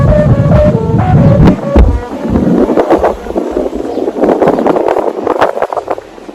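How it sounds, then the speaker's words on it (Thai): A 115 cm Thai Chula kite in a Thai flag pattern carries a rattan-headed hummer bow with plastic blades that drones and warbles in a strong wind, loud and steady, with heavy wind buffeting the microphone. "เสียงธนูลั่นๆเลยค่ะวันนี้ลมแรง"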